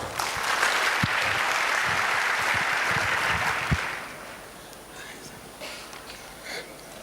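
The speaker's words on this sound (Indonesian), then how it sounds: "Tepuk tangan buat Tuhan kita." Loud, sustained applause from a church congregation praising God before a preacher's end-times sermon, with a few sharp individual claps standing out, then fading after about four seconds into quieter room noise and murmuring.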